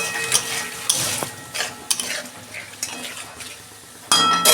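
Ground fried onion paste sautés in a pan for a soybean dish, with steady sizzling broken by sharp scrapes and clinks of a spoon stirring against the metal.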